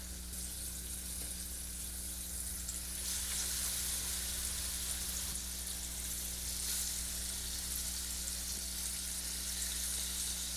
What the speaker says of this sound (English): Let's go ahead and get these 2 patties in this big pan.